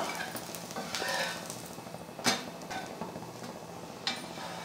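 A dosa cooks on a hot pan with a soft, steady sizzle. A few sharp clicks of a utensil tapping the pan come through, faint and close, with no one talking.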